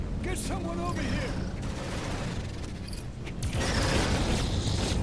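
Automated defence turrets on a spaceship in Genesis Alpha One fire a dense, rapid fusillade of gunshots with mechanical clanks, growing louder and busier toward the end, with voices heard briefly.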